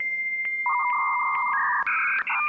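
A dial-up internet modem connects with a string of close, loud electronic tones. Dialing beeps lead into shifting handshake whistles and warbles across a few seconds.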